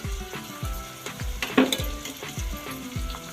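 Carrots drop into a pan of frying upma, setting off a crackling sizzle with rhythmic stirring scrapes and clanks close up.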